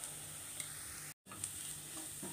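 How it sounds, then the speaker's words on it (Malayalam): Chili, coriander and fennel powders sautéing in a pan for egg curry: a soft, steady sizzle with a brief dropout in the middle, fairly faint and without talk. "ഇതെല്ലാം കൂടെ നന്നായിട്ടൊന്ന് ഈ പൊടിയുടെ പച്ചമണം മാറുന്ന വരെ ഒന്ന് വഴറ്റി കൊടുക്കാം."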